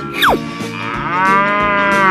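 A cow lets out one long, loud, sustained moo that swells and holds to the end, preceded by a brief descending whistle and set against soft music.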